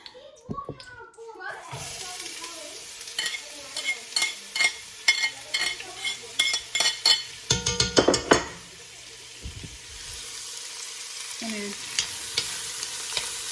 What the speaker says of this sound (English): Stir that around. Just saute a little, become translucent